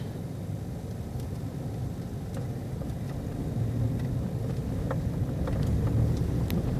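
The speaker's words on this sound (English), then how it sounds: "I'm gently going to let my left foot out gently, let the clutch out gently, and I'm going to let my right foot on the gas" A manual-transmission car pulls away in first gear, a low engine rumble building gradually under interior wind noise and faint ticking from inside the cabin.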